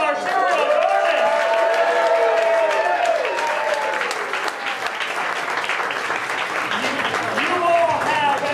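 Steady, loud audience applause for a lineup of serial performers at a live show, with cheers and voices rising through the dense clapping for the whole stretch.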